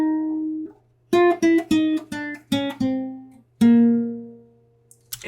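Ambient guitar top-line melody built in FL Studio, a sequence of clear plucked notes with ringing harmonics, some short and staccato and a final longer sustained note, alone with no talking.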